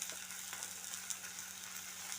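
Anchovies sautéing in a pan with turmeric and salt, a steady soft sizzle with faint scraping touches, fairly quiet and continuous throughout.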